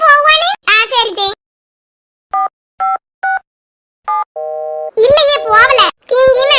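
A phone call fails to go through: a few short electronic beeps, then a longer steady tone, sounding in a quiet gap between stretches of someone talking.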